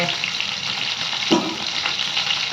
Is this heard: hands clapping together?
no